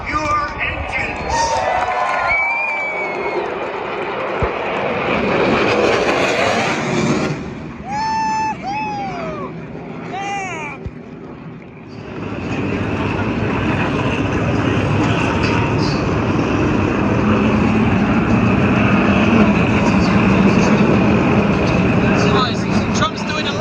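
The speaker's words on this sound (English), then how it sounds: "Gentlemen, start your engines." Race car engines firing up at the 2020 Daytona 500, a loud sustained roar spreading through the grandstand and swelling again after a brief dip, with crowd noise and voices mixed in.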